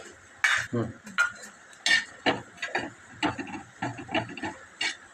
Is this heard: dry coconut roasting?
yes